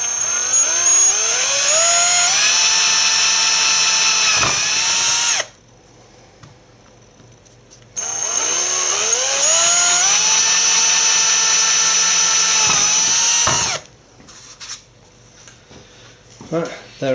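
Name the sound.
power drill drilling pilot holes in computer case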